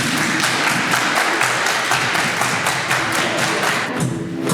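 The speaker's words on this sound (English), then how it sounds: "Everybody clap your hands." Campers at a summer camp clap along together in a steady, loud rhythm, a dense crowd of hand claps repeating in regular beats with music running underneath.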